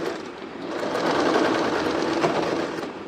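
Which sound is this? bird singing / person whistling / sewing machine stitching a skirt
sewing machine stitching a skirt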